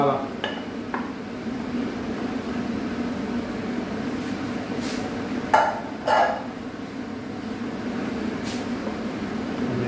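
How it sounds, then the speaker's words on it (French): Rice being stirred with camembert cream in a pan: a few scattered scrapes and two brief clinks of a utensil against the pan over a steady room hum. "On mélange."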